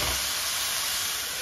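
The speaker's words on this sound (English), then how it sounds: "I turn the heat down a bit and cover them tightly so that they partly steam and partly braise" Spiced greens steaming and braising in a tightly covered pan over lowered heat give off a steady, loud broadband hiss and sizzle that stays constant and uninterrupted.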